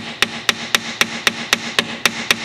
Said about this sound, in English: I have a brass hammer here.